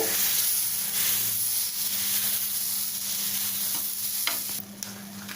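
Rava tomato dosa batter hisses on a hot griddle in a loud, steady, close sizzle, with a few faint taps and a brief scrape near the end.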